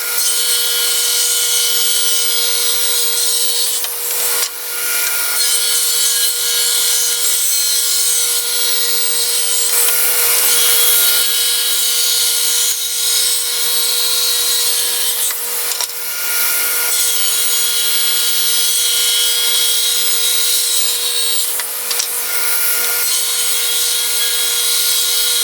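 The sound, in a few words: saw cutting wooden stripes to width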